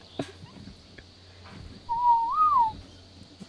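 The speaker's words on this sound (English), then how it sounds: "What are you whistling?" A character in the video game Ark: The Island whistles a single clear, rising and falling tune, close and fairly loud, over a quiet background with a few faint clicks.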